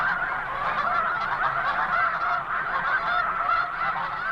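Flightless snow geese on the North American tundra honk together in a constant, loud, overlapping chorus from a sizable nearby flock, with no pauses.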